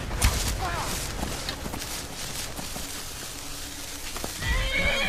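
Shadowmere, a horse in the video game Skyrim, whinnies loudly, with hoof clip-clops and game combat sounds around it and someone talking over parts of it.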